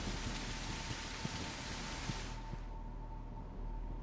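Steady rain in the Greenhouse of the game The Perception of Liminal Space, a dense, hissing downpour with a few scattered drop ticks that suddenly thins to a softer patter partway through, with no voices.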